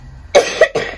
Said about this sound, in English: he's got a new continuous cough